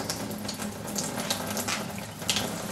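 Hot water runs steadily from a tap into a sink, a continuous close-up gush.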